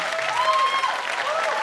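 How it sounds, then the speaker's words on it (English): An audience gives a short burst of dense, steady applause for Shashi Tharoor at a women's forum event, loud and close throughout. "I think he deserves a bigger round of applause."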